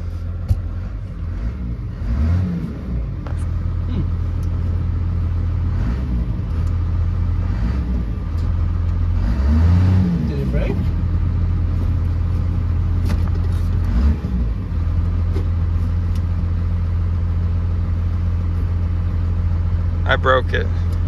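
A first-generation Dodge Cummins diesel truck, left sitting for over twenty years, idles and pulls away in first gear with a steady loud low rumble and a few swells of revving, while people talk over it.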